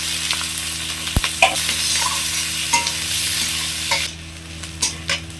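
Onions with panch phoron and whole cumin sizzle in hot oil, a steady close hiss broken by occasional stirring scrapes and taps.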